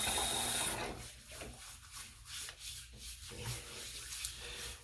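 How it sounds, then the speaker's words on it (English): A shaved scalp scrubbed by hand with a scrub product, giving close, soft rubbing strokes in an uneven rhythm, quiet and without talk. "So I'll get a good scrub in."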